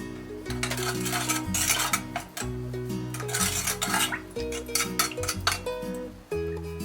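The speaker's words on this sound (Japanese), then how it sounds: "まずは鍋に調味料を混ぜ合わせてからかぼちゃを加えます" Seasonings stirred together in a pot with pumpkin pieces added, giving repeated close metallic clinks and scrapes of utensils against the pot, steady and busy over a background music bed.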